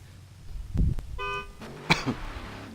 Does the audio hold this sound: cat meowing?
no